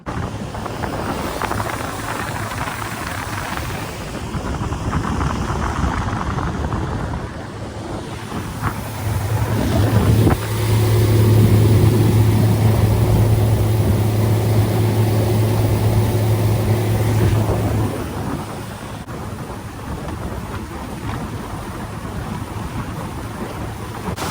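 A Carolina Skiff motorboat cruises out of a no wake zone, its engine a steady loud drone with wind buffeting the microphone and water rushing along the hull, the motor note rising midway before easing back.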